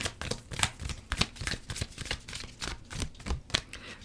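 Oracle cards being shuffled by hand, a rapid run of crisp riffling flicks and soft slaps repeating in quick bursts, close and clear with no talking.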